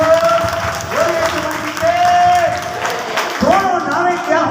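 A church congregation claps together during a Hindi prayer service, broad sustained applause filling the space over music and voices, with a preacher's speech mixed in.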